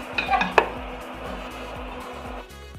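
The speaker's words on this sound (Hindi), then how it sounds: "अब हम इसमें डाल देंगे छानने के लिए।" Boiled mustard greens are poured from a cooking pot into a strainer, giving a few sharp metallic clinks and splashes followed by a soft, steady trickle of draining water.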